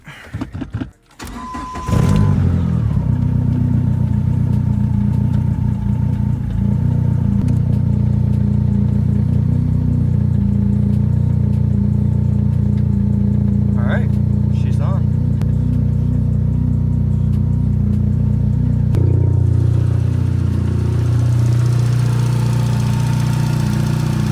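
A 2005 Dodge Neon SRT-4 engine idles loudly and close after a battery-reset PCM, running a little unevenly with a steady low rumble that shifts in pitch near the end, while someone talks over it.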